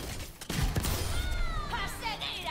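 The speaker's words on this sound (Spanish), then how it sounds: "esto ya es la explosión solo" An explosion from Venture's ability in Overwatch 2 lands as a loud, sudden burst, followed by rumbling debris and bright game effects, with a player talking over the action.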